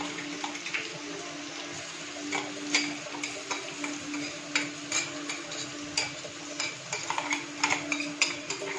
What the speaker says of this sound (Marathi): तेलात आपण मिरची, लसूण आणि अद्रकची पेस्ट टाकतोय.